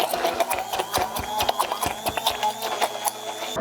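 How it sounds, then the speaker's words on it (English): A kitchen blender whirs as it blends a lemon broken gel, a close motor drone broken by rhythmic knocks and pulsing as the thick mixture churns. "it's a good idea to scrape down the gel and then blend again"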